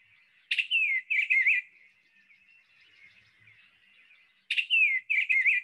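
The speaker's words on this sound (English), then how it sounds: "So our blue birds, the eastern bluebird" Eastern bluebird song, two clear bursts of soft warbling whistled phrases a few seconds apart, close and clean against a faint steady tone with no voices.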